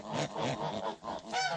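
Geese eating feed give a run of close, nasal honks in quick succession, several calls overlapping with brief dips between them and a sharper, brighter honk near the end.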